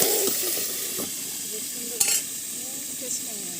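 Pointed gourd in mustard being stirred in a hot pan, giving a steady close sizzle with a few scraping stirs and one sharper clatter midway.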